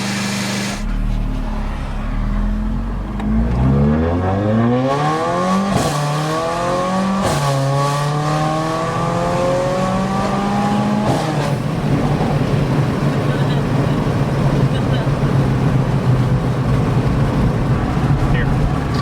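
A straight-piped Mercedes CLA45 AMG engine revs up under throttle, its harsh exhaust note climbing steadily in pitch for several seconds before dropping back to a loud, rough idle rumble, with people talking briefly at the start.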